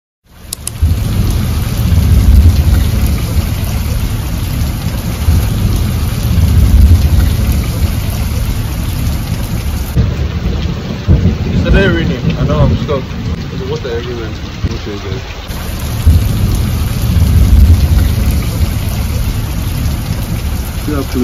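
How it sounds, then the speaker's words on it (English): Loud, continuous roar of heavy rain close by, with low rumbling and a constant high electronic whine; brief faint voices surface midway. "heavy rain starts falling."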